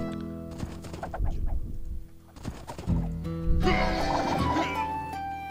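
Paladin cavalry horses in the strategy game Age of Empires 2: The Conquerors whinny and neigh over clopping hooves in a busy, continuous mix of unit and ambient sounds that grows louder toward the end.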